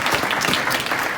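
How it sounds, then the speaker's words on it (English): Audience in a room at a 2019 summer wrap-up event applauding themselves, a dense steady wash of clapping throughout, close and moderately loud, with no talk. "give yourselves a round of applause."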